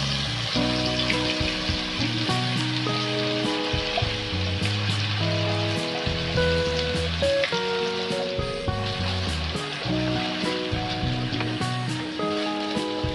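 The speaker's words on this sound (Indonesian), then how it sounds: "Step selanjutnya yaitu menumis bumbu-bumbu tadi." Steady, dense sizzling of ground spice paste frying in hot oil, continuous and fairly close, with a faint tonal hum underneath and no talking.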